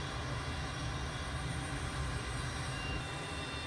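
IndiaFoxtEcho M346 fighter jet in Microsoft Flight Simulator 2020, engine running with a steady, dense low roar and a faint high whine held evenly throughout, no talking.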